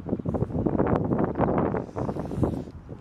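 Wind gusts buffet the microphone in uneven rumbling bursts, loud and close, with no one speaking.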